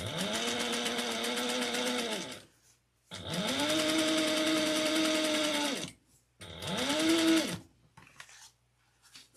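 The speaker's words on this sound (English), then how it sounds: "place the slip pockets right side together and top stitch base along 1/8 of an inch" Three steady bursts from a sewing machine top stitching slip pockets placed right sides together, each a loud, even mechanical whir that stops abruptly, with brief gaps of near silence between runs.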